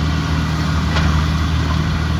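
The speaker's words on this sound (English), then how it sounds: "his little John Deere tractor" A small John Deere tractor idles close by with a steady low engine rumble and constant drone, no voices over it.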